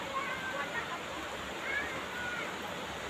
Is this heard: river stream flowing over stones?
yes